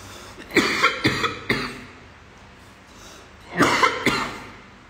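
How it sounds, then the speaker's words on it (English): A quick cluster of four coughs, a pause, then three more coughs, close and fairly loud with no talking. "a little bit of a cough."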